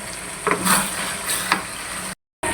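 Ground spices and roasted cumin paste for chicken qorma frying in a pan, a steady close sizzle with a couple of brief stirring swells and a short dropout near the end, no voices.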